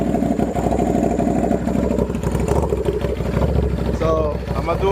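A Buell 1125R motorcycle with a very loud custom exhaust revs up close, its engine note rising and falling in a rough, throbbing roar over the idle.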